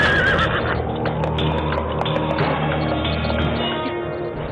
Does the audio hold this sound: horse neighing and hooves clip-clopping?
yes